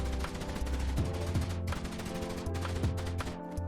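Rapid shotgun fire in Fortnite's shotgun frenzy aim training, loud close blasts in quick succession with game sound effects and a droning backing track underneath, and no voices.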